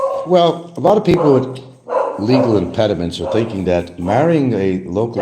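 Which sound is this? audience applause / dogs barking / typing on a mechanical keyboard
dogs barking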